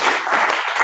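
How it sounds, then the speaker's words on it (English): Brief burst of room applause for a salesman at a sales meeting, a close, dense patter of clapping hands lasting under a second. "Give him a round of applause"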